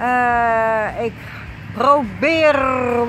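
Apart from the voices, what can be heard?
None of the usual background noises is heard.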